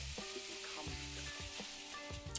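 Thick-cut bacon bits sizzle and fry in a skillet, a steady close hiss with a few stirring scrapes and soft clunks, no talking.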